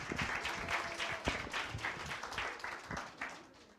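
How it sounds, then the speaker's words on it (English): A crowd claps at the Unity With Pam 2012 campaign show at Fairfield Manor. It is a moderately faint round of applause with distinct individual claps, and it fades out toward the end. "Everybody give her a big round of applause."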